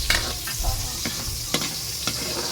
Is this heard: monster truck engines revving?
no